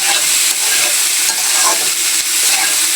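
Potato and sweet pumpkin pieces fry in a pan for a pumpkin and prawn dish, giving a loud, close, steady sizzle with light stirring scrapes and no voices.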